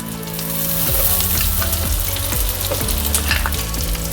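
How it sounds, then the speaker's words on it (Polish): Flour toasting in melted butter in a pan alongside asparagus sizzles loudly and steadily, with repeated scraping strokes of stirring running through it close up, no voices. "I zaczynam bardzo intensywnie mieszać, żeby nie powstały żadne grudki. Podsmażam po prostu tylko mąkę przez dosłownie 10 sekund."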